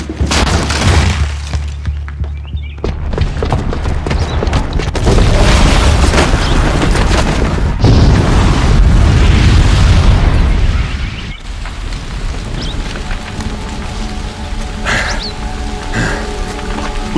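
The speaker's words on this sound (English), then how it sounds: "the booby trap on the bomb downstairs is gonna get set off" A bomb blast in the video game Horizon Zero Dawn: a heavy, loud, sustained booming rumble rolls for several seconds, then settles into a lower crackling, rain-like patter of falling debris.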